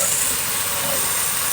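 Sponge gourd (turai) frying in a pan, a steady continuous sizzle with hiss, moderately loud and unbroken throughout.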